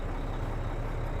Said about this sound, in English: people are going to want to hear some of the truck noise